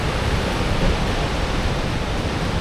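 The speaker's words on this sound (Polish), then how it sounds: "Idzie, idzie fala, odbija się od skały i aż cofa ją." Sea waves surge against coastal rocks in Iceland, a continuous broadband roar of surf and spray, loud and close with a steady rumble and little variation, no voices.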